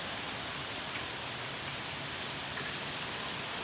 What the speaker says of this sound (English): It's actually raining outside.